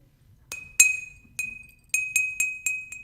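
Glasses clink together in a toast, about eight bright ringing taps spaced unevenly over a few seconds, close and clear with quiet background.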